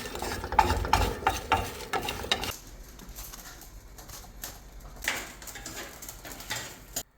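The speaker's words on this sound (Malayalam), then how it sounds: "അതിനായിട്ട് ചെമ്മീനും പിന്നെ ഉണക്കമുളകും കൂടിയിട്ട് ചട്ടിയിൽ നല്ലപോലെ ഒന്ന് വറുത്തെടുക്കണം" Prawns and dried chillies dry-roasting in a pan, stirred with loud scraping and rattling at first, then a quieter low sizzle with occasional stirring bursts, no talk.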